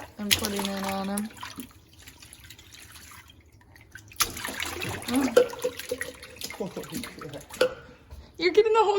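A baby about five months old splashes bath water in the kitchen, making irregular wet slaps and drips close by, mixed with an adult's voice talking.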